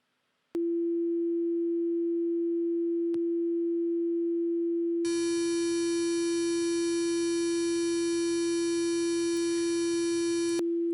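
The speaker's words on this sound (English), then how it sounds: "You'll be able to see and hear the effect of an inadequate sampling resolution" A steady pure sine tone holds throughout, then turns harsh and buzzy midway as grainy distortion from reduced sampling resolution joins it, with a couple of faint clicks earlier.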